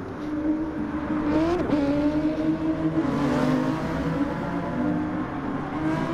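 A GT300 race car on a qualifying attack lap at Fuji makes a loud, close engine wail that climbs through the revs, briefly drops at a gearshift, then holds a strong sustained howl.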